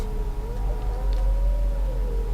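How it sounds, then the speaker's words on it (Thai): A long wavering dog howl rises and falls steadily over low rumbling background noise in the video game Tomb Raider. "โอ้โหเสียงหมาหอน"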